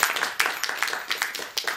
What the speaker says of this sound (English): let's give a round of applause and welcome to Jay